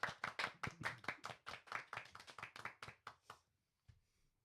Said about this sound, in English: quick round of applause for Dan, who's finishing his treatment today